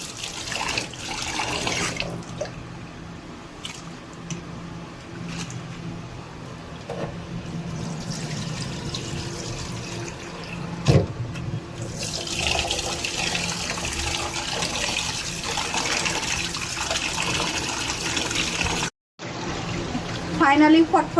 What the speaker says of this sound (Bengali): আম্মু এখন কচলে কচলে ধুয়ে নিচ্ছে